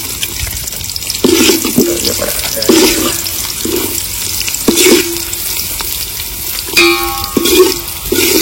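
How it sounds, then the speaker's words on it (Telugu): Chopped onion dropped into hot oil for a fenugreek-leaf chicken curry, sizzling and crackling in bursts with stirring scrapes, fairly close and loud with no talk. "ముందుగా నూనె పోసుకోవాలి, ఉల్లిపాయ వేసుకోవాలి,"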